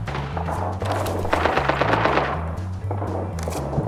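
Rapid gunfire in a shooter video game, bursts of sharp automatic shots over a low repeating musical beat, fairly close and continuous throughout.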